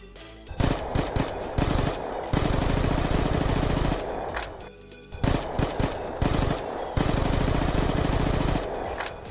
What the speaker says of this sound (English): it is the MSMC from Black Ops 2